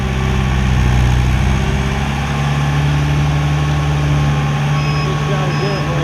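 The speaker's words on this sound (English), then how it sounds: "Gotta get it where I can turn the truck around in here." A truck turns around on a snowy road with reversing beeps sounding faintly over a loud, steady engine idle. Voices are heard in the background.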